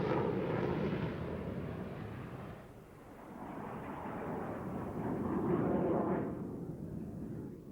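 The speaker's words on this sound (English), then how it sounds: "he then started down the runway and lifted the 104 into the air for the first time" A Lockheed F-104 Starfighter jet takes off down a runway on its first flight, producing a loud, continuous broadband roar that dips briefly, then swells again before easing off.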